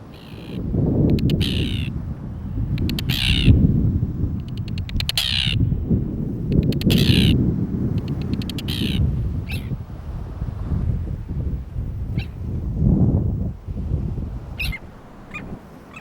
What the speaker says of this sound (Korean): 북극 제비갈매기가 점령한 섬에 들어가면 녀석들의 집단 공격을 피할 수 없다.